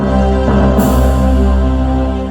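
An electronic keyboard's orchestra tutti voice plays a full, sustained chord that rings out grandly and steadily, with a fresh attack partway through, then slowly fades near the end.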